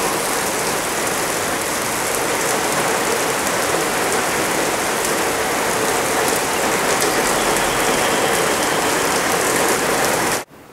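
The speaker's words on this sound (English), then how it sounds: "It started raining hard out here." Heavy rain pours steadily in a dense, continuous hiss for about ten seconds, loud and close, before cutting off abruptly at the end.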